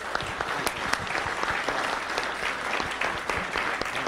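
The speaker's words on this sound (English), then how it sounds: "Let's give him a round of applause." An audience at an evening talk gives a round of applause, steady dense clapping that fills the room at close range without break, and no one speaks over it.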